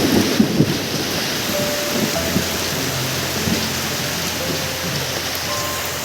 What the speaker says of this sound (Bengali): ভালোই কিন্তু ঝড় বৃষ্টি চলছে এখানটায় দেখুন।